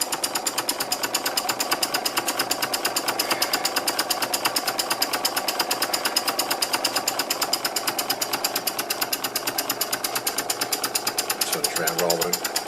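A Stuart No.8 model mill engine runs on air from a compressor, chuffing in a fast, even, rapid rhythm close by, with a person talking over it.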